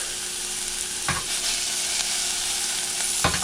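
Carrots and onions for picadillo sizzle loudly in a pan, a dense continuous frying hiss with two brief stirring scrapes, one early and one near the end; no talking.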